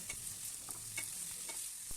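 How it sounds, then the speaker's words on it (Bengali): Vegetables for a vegetarian spinach ghonto fry in a pan with slit green chillies, a quiet, even sizzle under soft repeated scraping and tapping of a spatula as they are stirred. "সবজিগুলিকে এখন আমি খুব ভালো করে ভেজে নিচ্ছি।"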